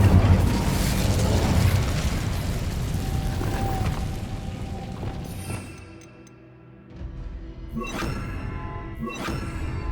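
An Incendio fire spell cast in the Hogwarts Legacy video game, a loud roaring burst of flame and whooshing rumble that fades, followed by a quieter stretch and a few sharp magical zaps.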